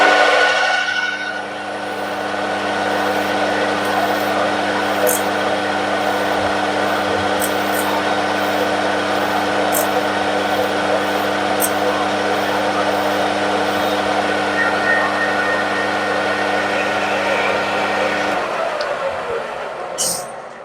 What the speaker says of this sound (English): Just going to have the lathe running, and I'm just going to clean off this corner here.